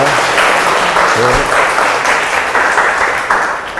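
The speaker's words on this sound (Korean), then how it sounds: "교수님께 다시 한번 큰 박수 부탁드리겠습니다" Audience applause for a professor after a Friday science lecture at a Seoul university, loud continuous dense clapping from a large room that fades slightly toward the end, with a brief voice beneath near the middle.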